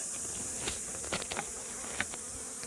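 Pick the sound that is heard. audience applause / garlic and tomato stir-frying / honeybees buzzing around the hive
honeybees buzzing around the hive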